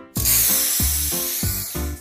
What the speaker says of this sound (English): Little Critter has got a can of spray paint and is painting the shed.